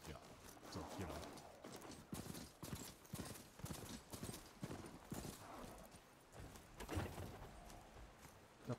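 A horse-like robotic mount in the video game Horizon Forbidden West trots along with steady, rhythmic clip-clopping hoofbeats, close and continuous throughout, with a faint voice underneath.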